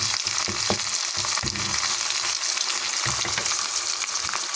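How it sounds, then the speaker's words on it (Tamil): Onions and curry leaves fry in hot oil, a loud, dense, continuous sizzle and crackle with scattered stirring knocks, heard up close. "அடுத்த நான் வெங்காயம் போடுவேன் கருவேப்பிள்ளையை இந்த ஒரு சைட்டாக போட்டு விடுவோம்"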